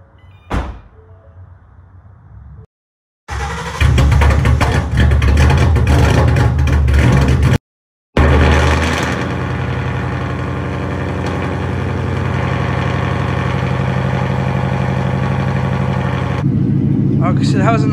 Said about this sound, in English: it has a nice little E85 cold start.